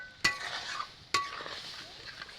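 Boiled tomatoes being stirred in a pot for homemade tomato sauce: two sharp utensil scrapes and clinks against the metal, with soft wet stirring in between, close and fairly quiet.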